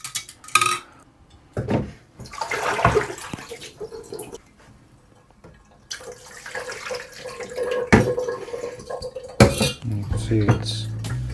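A spoon stirs sodium carbonate into a solution in a glass vessel, clinking and scraping in irregular bursts with some watery swishing, close and moderately loud, with no voices.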